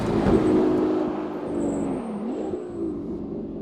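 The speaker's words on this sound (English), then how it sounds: "If you like the sound of turbocharged cars, you will absolutely love this." A turbocharged car engine drones loudly nearby, its pitch rising and wavering as it accelerates, with a faint high whine above.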